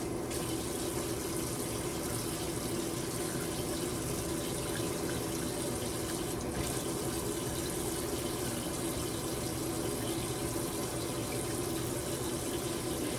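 Steady running water from a tap pours continuously to wet the side of a piece of dough, a constant broadband splashing flow with no talk over it.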